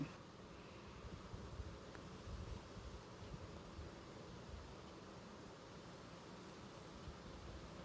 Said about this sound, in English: I scoop these bees in here